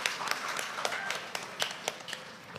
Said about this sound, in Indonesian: Mohon tepuk tangan yang meriah